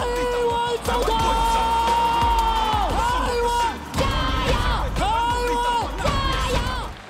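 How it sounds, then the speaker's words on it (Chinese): A large crowd at a Taiwanese political rally cheers, applauds and screams in loud, sustained waves as President Tsai Ing-wen is welcomed, with whoops and shouts rising and falling throughout. "掌声加尖叫欢迎台湾队长蔡英文总统"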